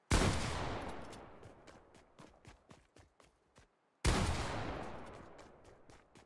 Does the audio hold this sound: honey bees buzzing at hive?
no